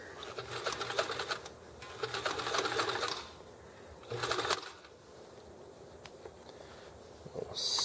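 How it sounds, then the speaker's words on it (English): A sewing machine stitches the seams of a drawstring bag in bursts: a long run of close, even stitching, a shorter run after a pause, and a brief start at the end, with small handling taps between runs. "we'll stitch these seams open"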